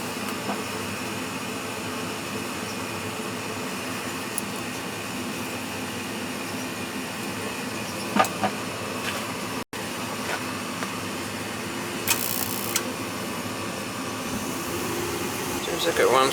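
A Weil-McLain CGI gas boiler with a running fault hums and rumbles at a steady, low level, with occasional faint clicks and brief bursts as it surges, while someone talks over it.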